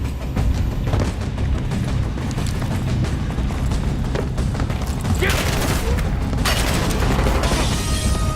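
Sustained video-game gunfire in Call of Duty: Black Ops 6, a dense, loud barrage of shots and booms running the whole time with voices mixed in.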